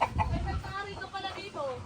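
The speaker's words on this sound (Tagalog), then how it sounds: "marami mga manok dito eh" Several chickens cluck and murmur close by on a mango farm, a steady run of short throaty calls with what may be human voices mixed in.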